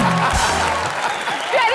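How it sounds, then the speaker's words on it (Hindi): Studio audience applause on a Hindi comedy talk show stage, a short burst of clapping and crowd noise right after a voice. "ठोको ताली।"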